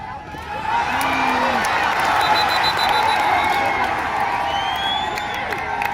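Crowd at an outdoor kabaddi match between Kolhapur and Ahilyanagar cheers and shouts with scattered whoops and clapping, a steady loud roar sustained throughout with some voices mixed in.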